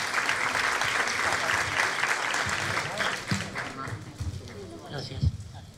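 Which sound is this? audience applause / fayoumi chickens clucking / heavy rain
audience applause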